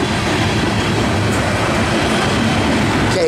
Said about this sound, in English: Oh, that's a CSX ES44 lead or ET44 leading, and UPS SD70ACe running second.